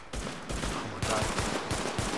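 Rapid automatic gunfire from The Division video game, several loud close bursts of dense rattling shots with brief gaps between volleys.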